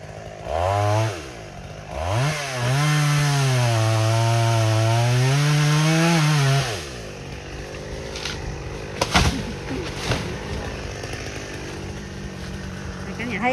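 A chainsaw cutting into an old Gừa bush in an overgrown abandoned garden revs up in two short bursts, then holds a loud, steady, wavering whine for about four seconds before dropping to a quieter rumble with scattered knocks.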